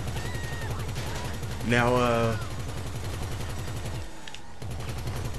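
Turret gun on a turreted limo in GTA V Online firing rapid continuous bursts, a dense mechanical rattle that runs nearly throughout, briefly pausing near the end, with someone talking over it.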